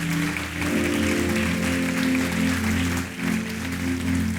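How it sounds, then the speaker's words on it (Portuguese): A church congregation clapping steadily through the passage, broad clapping noise over a sustained musical drone of held tones, with no voices standing out. "aplauda ao Senhor"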